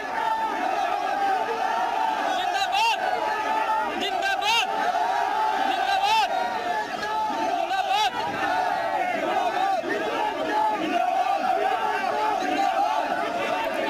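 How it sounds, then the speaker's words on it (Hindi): A large crowd clashes with police during a lathi charge in Ghaziabad, making a dense, steady roar of shouting voices and chanting with scattered sharper cries, loud and continuous throughout. "ये देखिए, जबरदस्त बवाल हुआ, तीखी नोकझोंक भी हुई, बहस हुई"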